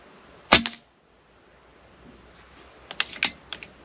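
A Snowpeak PR900W G2 PCP air rifle fires pellets, one sharp close crack followed by a pause, then a quick cluster of two or three lighter snaps and clicks near the end.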